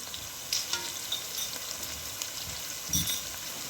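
Black pepper, rough salt and turmeric powder frying in a pan for a culls curry, a steady soft sizzle with a few brief scraping accents and no talk.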